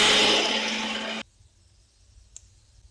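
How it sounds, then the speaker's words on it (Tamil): An electric mixer grinding ginger garlic paste whirs loudly and steadily for about a second, then cuts off abruptly, leaving near silence broken by one faint click. "இதை திருப்பவும் மூடி நல்லா நைஸா அரைப்படுற வரைக்கும் அரைச்சிட்டுக்கலாம்."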